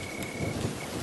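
Rain falling in a dark, dense forest at night with a low rumble of thunder, a brief steady wash of sound with a faint insect tone.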